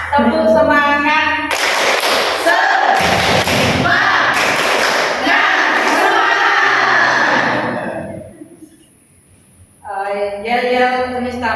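An indoor crowd at an event opening claps a rhythmic spirit cheer in quick, loud unison bursts, followed by a brief pause, with a voice leading before and after.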